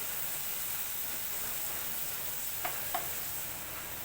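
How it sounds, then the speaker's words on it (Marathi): Tomato and coriander paste frying in a pan over low heat for chicken rassa, with a steady close sizzle throughout and two brief scrapes or taps near the end. "इथे मी टोमॅटो आणि कोथंबीर त्याची पेटी टाकून घेतली चांगला आता फ्राय करून घेते भाजते"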